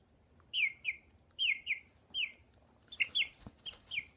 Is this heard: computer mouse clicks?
no